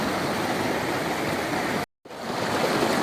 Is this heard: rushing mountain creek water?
yes